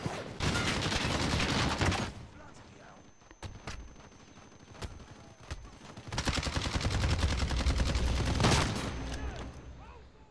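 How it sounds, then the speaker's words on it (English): Loud, dense bursts of automatic gunfire from the Call of Duty Modern Warfare video game, set in Verdansk, with a heavy rattling volley at the start, scattered sharp single shots in the middle, and another sustained barrage near the end. "Okay, I'm getting shot at."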